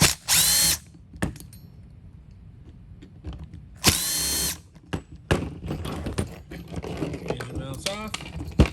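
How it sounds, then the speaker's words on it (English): A power driver blasts off the motor mount bolts on a Traxxas Nitro Rally RC car: two short, loud whirring bursts about three seconds apart, followed by close ratcheting clicks and small mechanical clatter. "Blast off your motor mount bolts."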